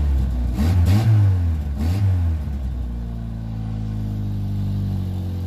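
A car engine with a MagnaFlow exhaust revving twice in quick blips, then settling into a steady throaty idle, close and loud.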